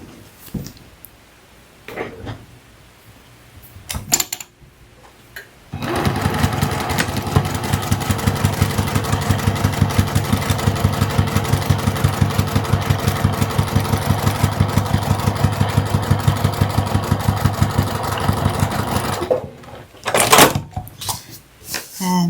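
A sewing machine runs a quarter-inch seam across a quilted tri-fold wallet pocket, a fast, even rattle of stitching sustained for about fourteen seconds, framed by brief handling sounds before and after.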